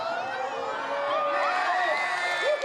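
A crowd cheers and whoops for Taji the poodle clearing a 1.5 metre dog high jump, a steady, loud wash of voices with rising shouts throughout.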